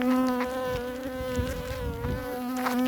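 Bees swarm around an Omlet Beehaus beehive, their steady droning buzz loud and continuous, recorded from a short distance with no talking.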